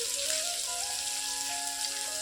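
Dried red chilies, cashews and green chilies frying in hot oil, a steady, close hiss and crackle of sizzling throughout, with faint background music and no talking.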